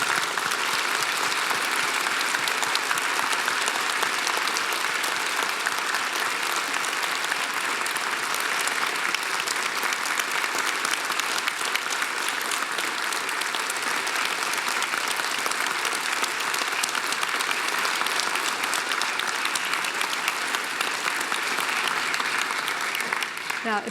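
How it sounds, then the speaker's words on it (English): Sustained applause from a large graduation ceremony crowd, loud and steady throughout, dense clapping with no break. "give them a final hearty round of applause"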